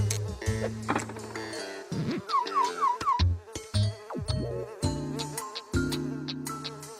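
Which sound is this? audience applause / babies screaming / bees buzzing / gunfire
bees buzzing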